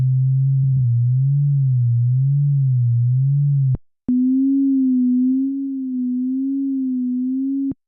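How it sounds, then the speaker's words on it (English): Ableton Operator synth tone with oscillator B frequency-modulating oscillator A at a slow rate, a loud steady sine-like hum with gentle wobbling pitch that stops, then resumes at a higher pitch with the same slow waver, no talking. "what we're hearing is B essentially acting as an LFO on the frequency of A"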